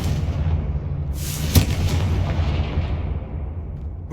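Confringo fire spell cast in the Hogwarts Legacy video game, a single sharp blast bursting out over a steady rumbling game soundscape, then a hissing, fiery roar fading away, with no talk.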